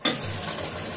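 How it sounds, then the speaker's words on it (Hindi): Garlic and ginger paste frying in a pan for a fish curry, a steady close sizzle with a brief louder burst at the start, no voices. "2 मिनट इसको भूनेंगे"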